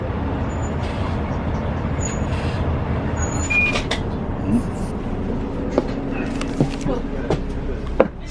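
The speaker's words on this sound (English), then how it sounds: "Nice coach bus." Interior of a coach bus in Los Angeles, with a steady engine and road rumble, scattered rattles and clicks, and a few faint high squeaks over the constant drone.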